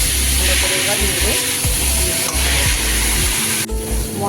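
Banana flower and potato masala being stirred in a pan, a steady close sizzle and frying hiss with scraping stir strokes throughout.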